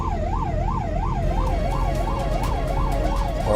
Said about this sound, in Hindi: सायरन बजा रहा है, हॉर्न दे रहा है